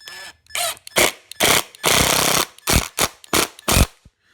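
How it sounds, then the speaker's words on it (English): An impact driver drives into soft wood in bursts, about ten short, loud, near whirring pulses separated by brief pauses, with no talking. "This wood is so soft, you really shouldn't use an impact, but I just like using all my drills."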